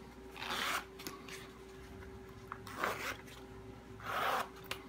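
A planner cover's zipper pulled in three short raspy runs, close and fairly quiet, with brief pauses between the strokes and no one talking.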